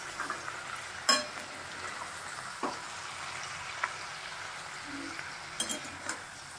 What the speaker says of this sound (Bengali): পেঁয়াজ কালিটা হালকা হাতে একটু নেড়ে দেবো।